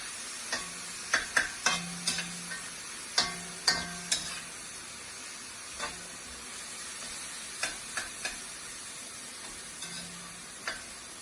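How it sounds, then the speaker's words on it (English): A spoon scrapes and stirs minced beef frying in oil in a pan for curry samosas. Repeated close scraping strokes come at an uneven rhythm over a soft, steady sizzle. "You just keep stirring up and digging up all the meat. It's quicker to cook that way."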